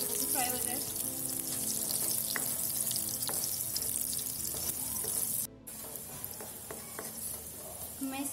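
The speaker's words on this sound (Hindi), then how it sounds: "ये शिमला मिर्च और गाजर जो है वो फ्राई हो गई है" Carrots and capsicum sizzle and fry in a pan for pasta sauce, a steady crackling hiss with occasional stirring clatter, briefly dipping quieter partway through.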